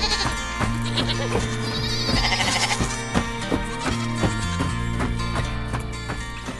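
White sheep bleat on a cartoon farm, the bleats mixed in with bright, continuous background music at moderate volume.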